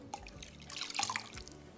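Liquid soap mixture with an oil blend poured into a batch of homemade charcoal soap, a soft close trickle and splash lasting under two seconds with no talk over it.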